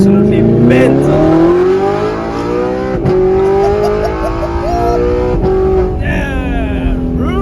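A straight-piped Audi R8 engine roars loudly from inside the cabin, climbing and falling through revs with sharp downshift blips and crackles, while people talk over it.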